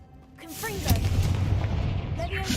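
A Confringo fire spell goes off in the video game Hogwarts Legacy: a loud, sustained booming blast with rumbling low end and brief whistling tones, with a faint voice in the background.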